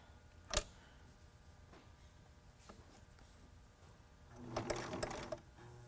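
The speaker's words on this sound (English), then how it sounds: "I found it easier to sew downwards than up because it likes to slip down." A sewing machine stitches a face mask made from a T-shirt in one brief, quiet run near the end, after a single sharp click and a stretch of near silence.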